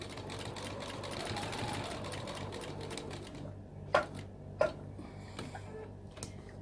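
A sewing machine stitches around a fabric bookmark in a rapid, even whirring run that stops partway, leaving a few faint clicks and taps at low volume.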